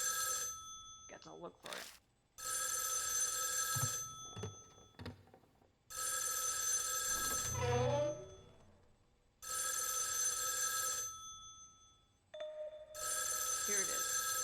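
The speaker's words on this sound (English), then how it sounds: "Oh, suddenly the phone rings loudly." A telephone in the video game Spirit Hunter NG rings loudly in repeated long bursts separated by pauses, with someone speaking briefly between the rings.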